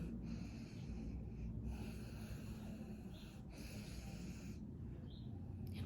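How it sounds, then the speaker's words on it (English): Someone sniffs a Peeps marshmallow candy up close, with three long, faint inhalations separated by short pauses in a quiet room. "But let's take a sniff."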